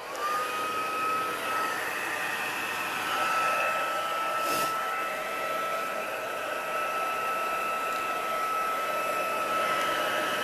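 Embossing heat tool blowing hot air, a steady loud whooshing roar with a faint whine, running continuously and close up throughout, no voices.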